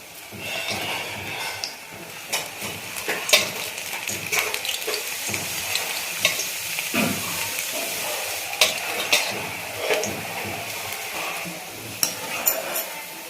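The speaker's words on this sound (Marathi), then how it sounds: "तर आपण आता याच्यामध्ये असे पकोडे तळून घेऊ" Pakoras (bhaji) fry in hot oil in a home kitchen, a steady close crackling sizzle with occasional clinks and stirring bumps from a pan, no voices.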